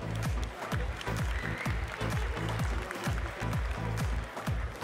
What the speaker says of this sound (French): Félicitations à tous, on peut les applaudir.